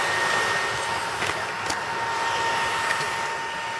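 Fans inside a homemade fume extractor blow air in a steady, even whoosh with a faint high whine, continuous and close throughout, with a few soft clicks.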